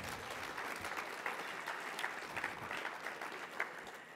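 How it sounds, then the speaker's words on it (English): A conference audience claps in a warm, steady round of applause, many hands patting at once from a moderate distance, holding even throughout without speech. "Let's give another round of applause."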